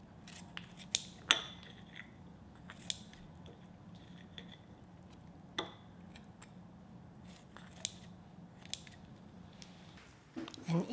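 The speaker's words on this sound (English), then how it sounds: "I'm going to cut this between the bones" Kitchen scissors snip through grilled galbi between the bones, giving scattered sharp cuts and crunches at irregular intervals, close and quiet, with a louder cluster near the end.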